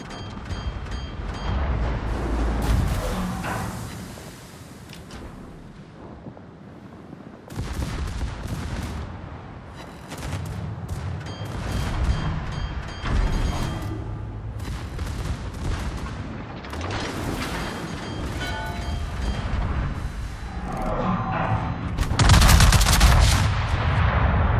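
Warship gun salvos boom in World of Warships aboard the Libertad, heavy and repeated over a constant engine and sea rumble, with a huge blast near the end.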